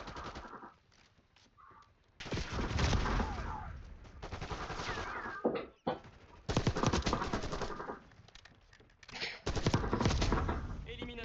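Video-game gunfire comes in loud bursts of rapid automatic shots, with short quiet gaps between volleys.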